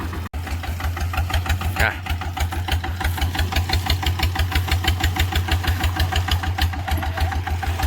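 A farm tractor's engine idles close by, its rapid, even chugging pulses running steadily and loudly throughout, with a brief clunk near the start.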